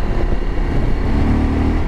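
Engine of a 2023 Suzuki V-Strom 1050 motorcycle running steadily with a low, rumbling drone and wind noise, close and loud, no talk.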